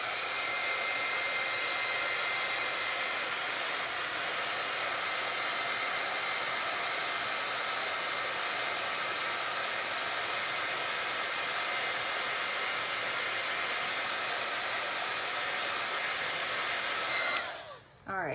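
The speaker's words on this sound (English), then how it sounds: "this white ink is going to be a little bit tacky. So I'm going to heat set it real quick." A heat tool blows hot air to set tacky white ink on an embossed papercraft project, giving a steady, close, loud hair-dryer-like whoosh that runs unbroken for about seventeen seconds and then cuts off abruptly.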